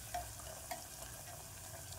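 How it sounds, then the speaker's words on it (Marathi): Ground spice masala fries steadily in a pot, a continuous soft sizzle with a couple of faint stirring scrapes, close and at moderate level with no talking. "त्याच भांड्यात आपण मसालाही छानपैकी फ्राय करणार आहोत"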